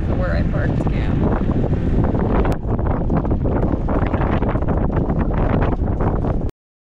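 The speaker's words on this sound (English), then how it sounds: "It's so windy here." Strong wind gusts across a lawless city where a truck is parked for camping, buffeting the microphone with loud, continuous roaring and rumbling that cuts off abruptly at the end.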